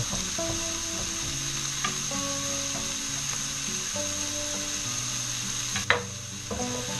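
Onions and peppers sizzle steadily in a hot pan, a constant crackling hiss up close, with an occasional clink or scrape of a utensil stirring.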